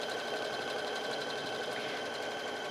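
A sewing machine stitches decorative patterns onto a pillow cover, a close, steady mechanical whir with a fast even needle rhythm running without pause, with no talking.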